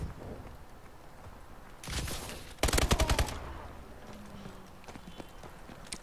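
A short, close burst of rapid gunfire in Call of Duty Advanced Warfare, preceded by a brief rush of noise and followed by quieter game ambience with scattered faint clicks.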